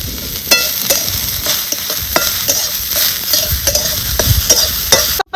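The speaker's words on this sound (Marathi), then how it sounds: "थोडंसं आपल्याला तेल टाकायचं म्हणजे कांदा पटकन भाजला जातो" Onion fries in oil with a lively sizzle while a spoon stirs it in quick, repeated scraping strokes against the pan, close and fairly loud, ending abruptly.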